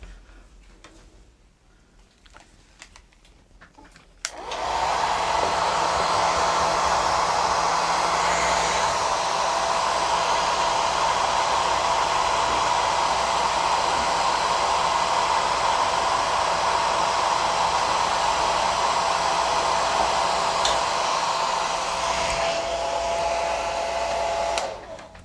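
A hair dryer runs on a steady high setting, drying blue watercolor paint in a craft painting session; it switches on abruptly after a quiet moment and roars continuously and close, with no talk over it.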